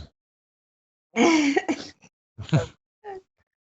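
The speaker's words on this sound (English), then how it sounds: "She's coughing." A person gives a few harsh, throaty coughs in short bursts, close by, with brief silences between them.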